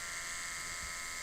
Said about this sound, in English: electric toothbrush.